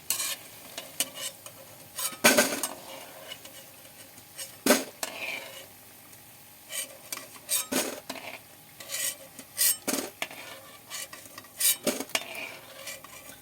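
Matar dal bora fritters fry in oil while a metal spoon repeatedly scrapes and clanks against the pan, loud bursts of stirring and scraping over a soft, steady sizzle, close by with no speech.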